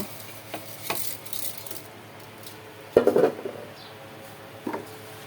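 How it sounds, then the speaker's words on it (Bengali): Rice frying in spiced oil for tehari produces a low steady sizzle, punctuated by a few sharp scraping stirs and clinks of a spoon against the pot. "আর এই যে মশলা সহ যে তেল আছে এর মধ্যে আমি এখন এই যে চালটা দিয়ে সুন্দর করে ভেজে নেব"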